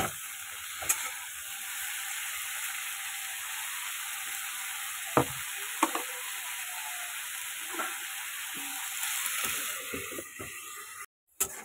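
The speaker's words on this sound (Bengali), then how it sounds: "ঢাকা দিয়ে দিয়ে ভালো করে ওটাকে ভাজা হতে দেবো" Cauliflower and potatoes fry under a lid in a covered pan, giving a constant hissing sizzle with occasional light knocks, then a brief cut to silence near the end.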